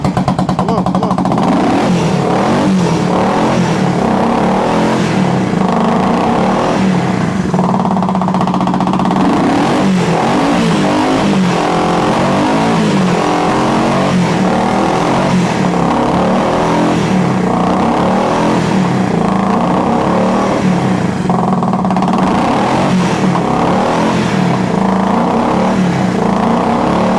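A vintage motorcycle engine runs loud and close, revving in repeated uneven blips over a rough, lumpy idle that keeps threatening to stall, with a steady mechanical rumble throughout.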